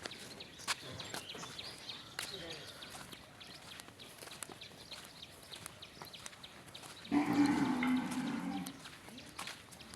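A cow lows once, a deep drawn-out moo rising from the background, on a farm raising cattle and buffalo amid steady outdoor ambience with faint scattered knocks.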